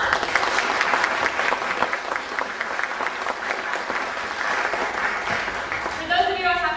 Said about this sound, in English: So if we could give her and Franklin Park a round of applause.